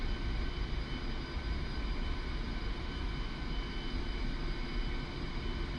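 A fighter jet taxis toward the runway in DCS World, its engine giving a steady, loud low rumble and whine that holds even throughout, with no talking.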